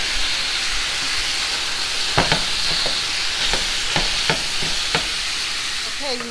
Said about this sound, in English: we're going to mix all this together now and cook everything